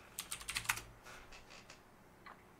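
A burst of quick, close keystrokes on a computer keyboard, about eight rapid clicks, then a few sparser taps trailing off into quiet.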